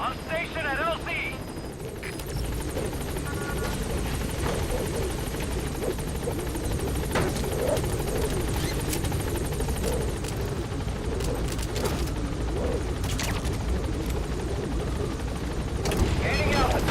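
The helicopter Pequod hovers at a landing zone in Metal Gear Solid V, its rotor producing a steady, loud, continuous thudding drone while a voice speaks over it.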